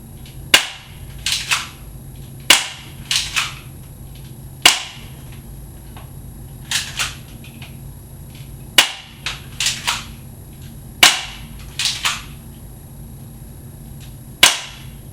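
A Crosman Stinger P311 spring airsoft pistol fired repeatedly into an apple, sharp snapping shots in irregular bursts with short gaps, close and crisp against a quiet background.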